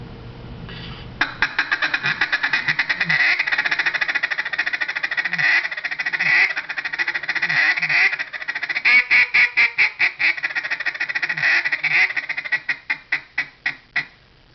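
A duck call blown in fast, rapid chattering bursts, continuous and loud, ending in a run of separate quacking pulses.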